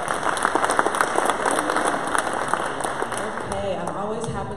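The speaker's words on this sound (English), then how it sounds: "Can we give them a round of applause?" An audience at a startup pitch event breaks into a dense, steady round of applause. Near the end, a voice starts talking over the fading clapping.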